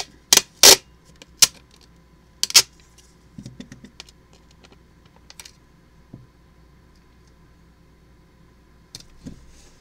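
Tape being pulled and pressed down onto a homemade reusable scratch-off card with a silicone stencil, giving a few sharp tearing bursts early, then soft scattered taps and rustles, close up with no talking.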